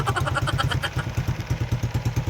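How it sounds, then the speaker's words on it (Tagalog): A motorcycle engine runs close by with a steady low, chugging pulse throughout, heard alone with no talk. "At sasakay kami sa motor."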